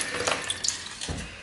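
Water being drained from a block of tofu at a kitchen sink while cooking pad thai, with a soft running trickle and splashes and a couple of brief drips and thumps, fairly quiet and close.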